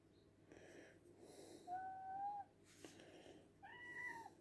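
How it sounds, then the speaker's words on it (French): A cat meows twice, faint and whiny, with soft breathy snorts and quiet rustling between the calls. "c'est mon chat qui miaule."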